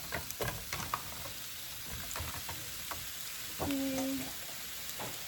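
Vegetables and sweet potatoes sizzle quietly in a warmed skillet, with a soft steady frying hiss and a few stirring clicks, and a voice speaks briefly.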